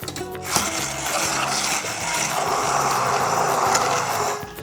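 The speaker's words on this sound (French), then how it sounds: "On va pouvoir la mixer." A hand blender purees cooked pumpkin soup in a pot, a steady loud whirring grind that runs without pause for several seconds, with a rough rattling texture and no talking.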